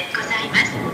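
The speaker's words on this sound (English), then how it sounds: "This train, the Denin-Toshi line, it connects up to Nagatacho" A Tokyu Den-en-toshi Line train rides through Tokyo, its interior rumble and hum running briefly beneath a nearby voice.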